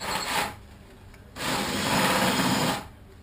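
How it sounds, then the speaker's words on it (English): Barrel sander grinding at a cured nose repair in two bursts, a short rasping whir then a longer steady abrasive buzz, close by with brief quiet between. "Then we'll take the barrel sander."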